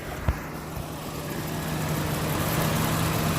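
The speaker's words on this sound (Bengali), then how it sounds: "2000 সিসির ইঞ্জিন।" A 1995 Toyota Hilux Surf with a 2000cc engine idles steadily, a low continuous rumble with a faint hum, close by and without speech after a brief knock at the start.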